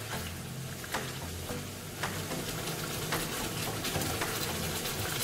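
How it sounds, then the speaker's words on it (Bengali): Fried potatoes being stirred into a Bengali katla fish curry gravy, cooked without onion or garlic, give a soft bubbling sizzle with occasional scraping knocks of the spoon, close and fairly quiet, with no talking. "আলুগুলো দিয়ে দিয়েছি, এখন একটু ভালো করে নেড়ে মিশিয়ে দিচ্ছি।"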